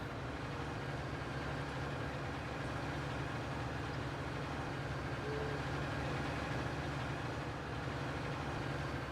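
Tractor engine in Farming Simulator 19, a continuous low humming drone with a slight rough pulse, steady and moderately near, without any talking.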